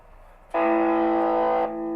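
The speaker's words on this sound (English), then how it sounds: "distortion on," An electric guitar with its distortion effect switched on rings out as one sustained, buzzing, harmonically rich chord that starts abruptly after a moment of quiet and holds for about a second before easing down.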